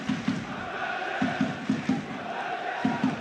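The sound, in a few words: football stadium crowd of around 7,000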